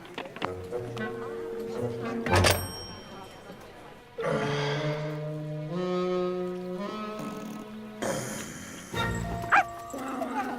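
A dog barks in short yipping bursts over a music-like harmonic score and speech, the barks loud and close at times.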